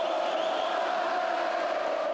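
Basketball crowd cheering steadily in the Lineu de Moura gymnasium, a dense, continuous roar of many voices filling the hall without a break.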